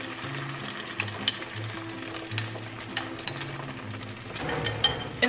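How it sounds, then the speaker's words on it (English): An egg dropped into a hot frying pan sizzles with a steady crackling hiss that carries on under soft background music, with a few brief clinks near the end. "You hear the sizzle."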